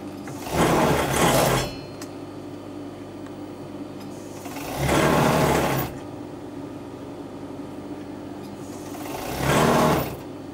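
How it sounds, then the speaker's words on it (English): Overlocker serging the seams of a dress in three separate bursts of fast, steady whirring, each about a second long, with quiet pauses between them. "I'm just going to quickly overlock this because before we do the fitting seams"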